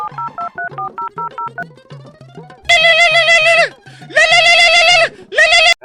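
A phone dialing a call: a quick run of about ten keypad tones, a short rising tone, then loud, buzzy ringing bursts with brief gaps between them.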